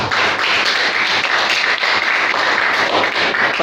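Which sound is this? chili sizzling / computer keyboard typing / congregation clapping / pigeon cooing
congregation clapping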